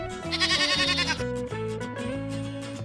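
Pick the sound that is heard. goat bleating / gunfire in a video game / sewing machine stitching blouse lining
goat bleating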